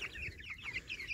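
Hens and a young rooster clucking softly nearby in a backyard coop, a short burst of quiet, rapid clucks.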